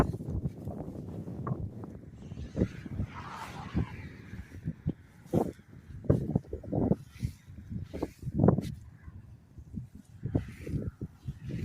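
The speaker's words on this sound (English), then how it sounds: "It is so windy, guys." Strong gusting wind buffets the microphone in a rumbling, uneven roar during a walk through Town Creek cemetery, with scattered thumps and rustles rising and falling throughout.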